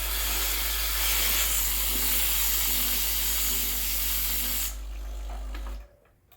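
Sunbeam EM7000 dual boiler espresso machine steaming and brewing at once, a loud continuous hissing roar over a deep steady hum that drops away in two steps near the end.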